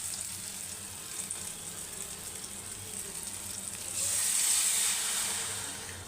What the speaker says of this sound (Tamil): கொஞ்சமாக தண்ணி சேர்க்கணும்